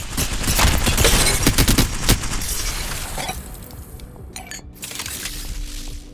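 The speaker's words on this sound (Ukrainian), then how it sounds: "при перегріві L-Star видає характерний звук" Overheating L-Star energy light machine gun from Apex Legends, a dense burst of rapid crackling fire that cuts out sharply, followed by a brief mechanical hiss and clatter.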